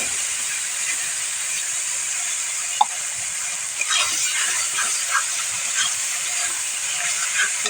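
Spice paste sizzles in hot oil over already-fried potatoes for a fish curry, a steady bright hiss running throughout with a few faint clicks and pops, close and continuous with no talking.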